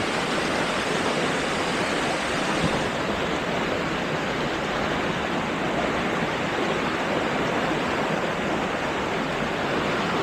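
A river swollen by nonstop heavy rain rushes through a spot where it pours over like a waterfall on its way toward Laguna Lake, giving a loud, continuous broadband roar that stays steady and close throughout.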